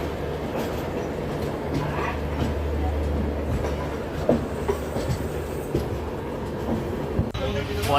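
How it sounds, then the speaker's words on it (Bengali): A passenger train pulls away from Puri and runs along the tracks, a steady low rumble with faint rhythmic wheel clatter and occasional clanks, heard from inside the carriage with a little background chatter. "আমাদের ট্রেন কিন্তু এখন রওনা দিয়েছে শালিমারের উদ্দেশ্যে।"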